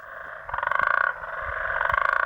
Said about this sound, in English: the curious croaking sound of frogs serves as our lighthouse, guiding us along the river's secret paths